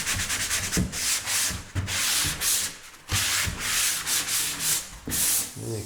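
Sanding the side edge of a door by hand, with repeated back-and-forth rasping strokes in a steady rhythm, close and loud with no talking.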